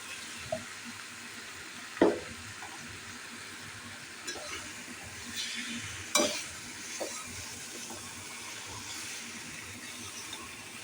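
Potatoes sizzle in a hot pan while a spoon scrapes and stirs them now and then, giving soft steady frying hiss broken by a few sharp clinks and scrapes, close and fairly quiet.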